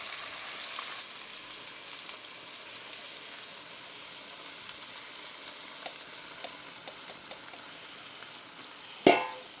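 Spice masala and flour frying in a pan while being stirred, a faint, steady low sizzle throughout, ending with a single sharp clink of a utensil.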